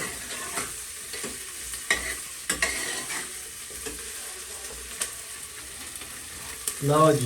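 Onion, potato and carrot tempering in hot oil for a tadka hiss and crackle steadily, with intermittent stirring clatter close up and a brief spoken phrase near the end.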